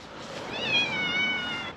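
Cat meows close by in a long, rising-and-falling drawn-out call, a single chatty vocalization with a clear tonal cry.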